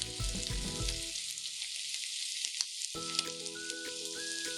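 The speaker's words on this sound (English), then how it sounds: "Cooking the bacon and mushrooms until well browned draws out their umami" Bacon, onion and mushrooms seasoned with salt frying in a pan, a soft, steady sizzle with occasional crackles, heard alongside light background music.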